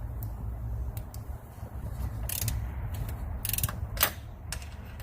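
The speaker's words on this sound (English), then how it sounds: "This back corner one, you almost have to use a wrench on it." Ratcheting wrench clicks and creaks in short bursts while turning a strut bolt tucked in the back corner of a 2014 Nissan Rogue, over a steady low background rumble.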